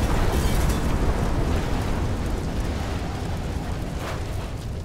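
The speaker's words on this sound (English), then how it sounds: "Carl wanted to surprise Paul with a nuclear bang" A cartoon nuclear explosion rumbles as a loud, sustained roar of broadband noise, thick with low-end boom and crackle, fading only slightly over five seconds.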